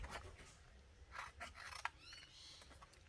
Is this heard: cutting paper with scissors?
yes